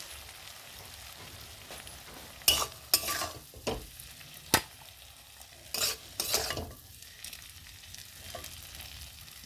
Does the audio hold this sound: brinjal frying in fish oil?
yes